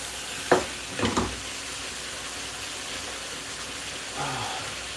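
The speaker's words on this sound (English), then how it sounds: "So we're sweating the onions." Onions and carrots sweat in a soup pot for chicken soup, giving a steady, soft sizzle and hiss with a few brief stirring knocks near the start and a quiet voice late on.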